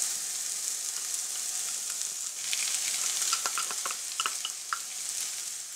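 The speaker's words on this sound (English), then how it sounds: "And saute for additional 3 to 4 minutes" Soft, continuous sizzle of onions, peppers and spinach sauteing in a pan, with occasional light crackles and stirring clicks, heard close and alone.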